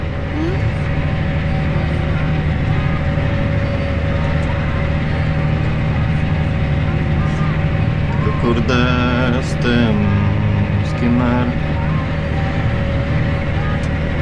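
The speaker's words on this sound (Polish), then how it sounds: "i traktorek sam jedzie, nie?" Claas Arion 630 tractor engine drones loudly and steadily throughout post-harvest field work, a constant close rumble with a brief voice-like tone rising over it midway.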